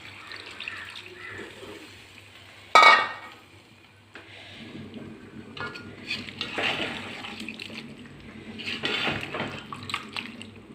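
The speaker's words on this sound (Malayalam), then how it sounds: "ഒരു ഇത്തിരി വെള്ളം, ഒന്ന് നനവ് വേണം" A sharp metallic clank of a pot, then a little water splashing and trickling into it while cooking tapioca and meat biryani, with utensil clinks and stirring sounds; no voices.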